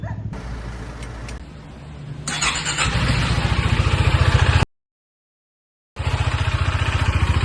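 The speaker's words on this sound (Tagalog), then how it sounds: "Napa-start ni Kuya Julius ang kanyang motor" A motorcycle with a recently blown engine is coaxed into starting: a low rumble builds into a rhythmic, chugging run close by, cuts out abruptly, then returns running steadily.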